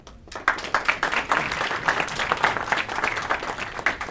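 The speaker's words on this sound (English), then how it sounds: "A big round of applause for them." Audience applause at an implantology workshop at a dental college, greeting guest speakers: a crowd of hands clapping fairly close, with irregular bursts throughout and a faint voice or two underneath.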